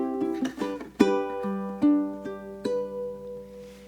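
Ukulele plays the tenth bar of a song as a short run of clear plucked notes, each ringing out close and alone, with the final note sustaining and fading.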